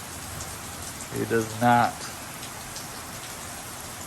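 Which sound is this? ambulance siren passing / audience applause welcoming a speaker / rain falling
rain falling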